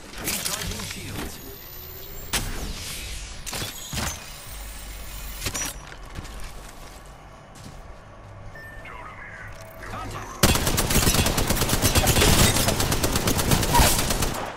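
Gunfire in a shooter video game with shields and aim assist, a dense run of rapid shots and clattering impacts, growing into loud continuous firing near the end, with speech mixed in.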